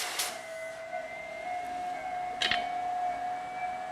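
Hunter TC39 tire changer rollers indenting and loosening a tire bead, a faint steady mechanical whine with a brief clack near the middle.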